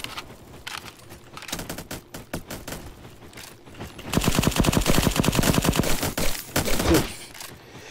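Rapid automatic gunfire from the Roblox shooter Bad Business, with short sparse bursts early on, then a long loud stretch of fast, even shots before it breaks off.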